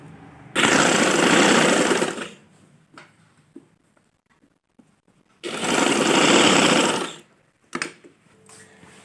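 A sewing machine stitches the hem of a shirt in two loud bursts of rapid, close mechanical chatter, each lasting about two seconds. Quiet handling sounds of the fabric fill the gaps between them.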